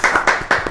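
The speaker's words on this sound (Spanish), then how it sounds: "a quien recibimos con un fuerte aplauso también" Several sharp, close hand claps in a quick uneven rhythm, about four distinct bursts, from an audience welcoming a guest at a White Cane Day event for people with visual disabilities.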